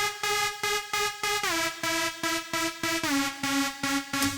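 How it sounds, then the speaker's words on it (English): A warm, widened synth lead processed with a plugin plays a clear melodic line of repeated pulsing notes, pitch stepping down midway, rich in harmonics and loud with no voices. "And then with this quick processing I dialed in, it sounds like this"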